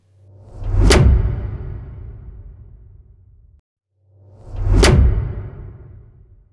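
Two cinematic whoosh hits without denoise. Each swells into a sharp bright impact with a deep booming body, then rumbles away. They are loud and close, separated by a brief gap of silence.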